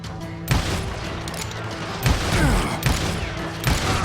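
Gunfire in Call of Juarez: Gunslinger: several loud, sharp shots spread across the moment, some followed by metallic mechanical clicks, over a low rumbling background.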